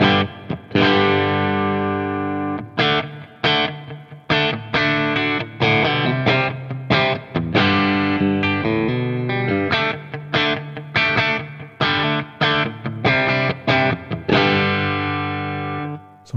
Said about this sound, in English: let's just try out the second channel now with gain around noon and with the plexi engaged, so lower gain kind of thing